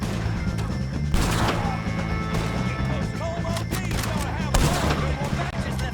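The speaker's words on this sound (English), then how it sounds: "shoot some of these O'Driscolls!" Gunfire in Red Dead Redemption 2 during a shootout with O'Driscolls, repeated loud shots and crashes over a constant game soundtrack, with character voices mixed in.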